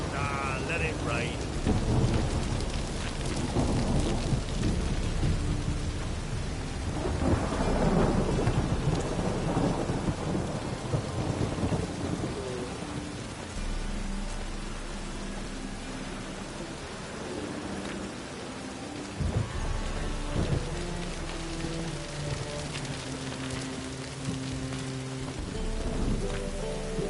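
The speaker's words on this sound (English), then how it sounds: "Let it rain." Steady rain and rolling thunder of a thunderstorm in The Witcher 3 video game, a dense hiss of rainfall with deep rumbles swelling and fading over nearly half a minute, with faint musical tones underneath.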